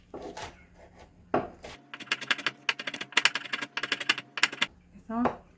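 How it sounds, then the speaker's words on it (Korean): A knife chops chili peppers very finely on a cutting board in a quick burst of crisp, rapid taps, with a few separate knocks before and after. "아주 잘게 다져줍니다."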